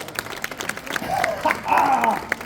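Audience applause at a live mentalist show at a geek convention in Blois: scattered claps from a crowd, moderately close, with voices rising underneath.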